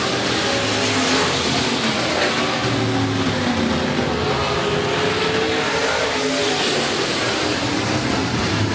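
B-Modified dirt track race cars roar around Rapid Speedway during a heat race, a dense, continuous wall of revving engines that stays loud and unbroken, with no talk heard.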